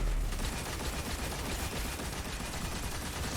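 Rapid gunfire from the Thunderlord machine gun in Destiny 2, a dense, loud, continuous burst of shots with crackling impacts filling the whole stretch.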